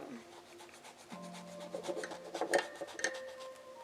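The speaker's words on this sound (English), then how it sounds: "I'll start sanding on now" Coarse abrasive rubbed against a hand-whittled wooden spoon, quiet rasping strokes that build in a short uneven rhythm, close up, with faint clinks and no talk.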